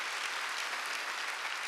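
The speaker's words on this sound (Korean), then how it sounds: "박수 칠려면 치고 말려면 말려" A church congregation claps during a Sunday service, a short, thick, uniform burst of applause from many people with no speech on top.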